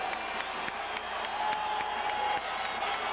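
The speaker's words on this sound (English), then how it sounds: "the crowd begins to chant defense here in the Holt Arena" A large college football crowd roars and chants defense inside Holt Arena, the ISU Mini Dome, during a 1999 Montana State vs Idaho State game, a dense, echoing wash of voices with rhythmic rises.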